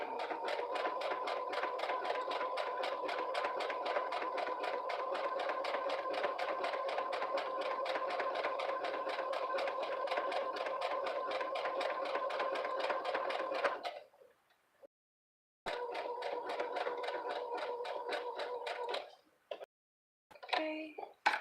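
A sewing machine runs a steady, rapid stitch through velvet for a fabric pouch, loud and continuous for about fourteen seconds, then stops and restarts in a shorter burst and a few brief spurts.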